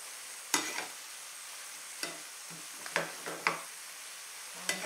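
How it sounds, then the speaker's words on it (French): A spoon stirs food with a seasoning cube and stock in a pot, giving several separate scraping knocks over a soft sizzle with no talk. "On va bien remuer comme ça."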